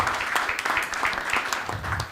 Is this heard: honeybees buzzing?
no